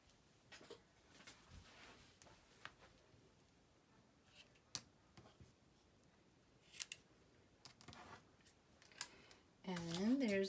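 Scissors snipping paper for a handmade Mother's Day card folio, a few quiet scattered cuts close by, with a person talking softly over them.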